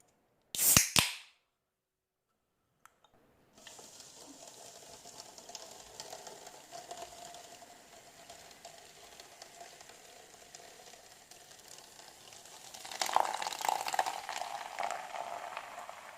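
A Stella Seltzer tangerine sparkling water can cracks open with a sharp, close snap and hiss. After a short silence, a steady soft fizz of bubbles follows and swells slightly louder near the end.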